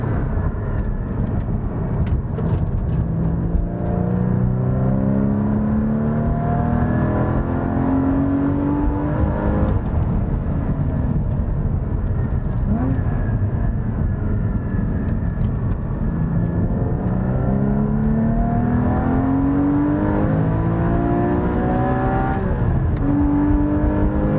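A Porsche Cayman GT4 engine revs loudly while driving, its pitch climbing repeatedly through the gears in rising sweeps and dropping back between shifts, close and continuous with no voices.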